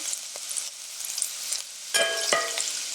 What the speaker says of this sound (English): Then we'll add the ginger. Another 5-8 seconds there.